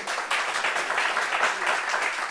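An audience claps steadily for a couple of seconds, a dense burst of applause that starts abruptly and keeps going.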